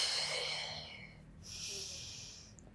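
Breath exhaled through the nose or mouth during a mixed-level Pilates workout on a foam roller, a soft airy whoosh that swells and fades, then a second breath, close and quiet with no talk.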